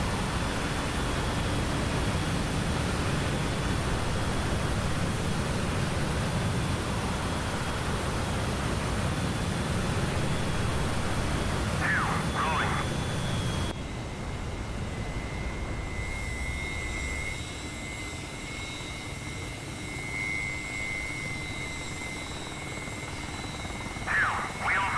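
An F/A-18 Hornet jet in DCS World roars at full afterburner during takeoff, a loud, steady broadband rush filling the scene, dropping to a thinner whine partway through, with faint tonal cockpit tones near the end and no voices.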